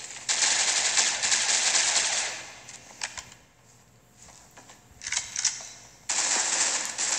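Automatic gunfire in the Critical Ops shooter game, several rapid bursts separated by short pauses, fairly close and crisp, with no talk over them.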